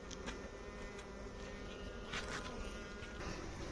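Honeybees buzz steadily inside an opened hive during a nest inspection, with a dense, continuous hum that rises briefly in intensity midway, heard close and without talking.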